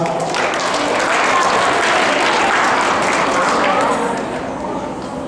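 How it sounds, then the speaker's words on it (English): A middle school audience breaks into loud, dense applause at a school presentation, sustained for several seconds before tapering slightly at the end. "Let's give them a round of applause."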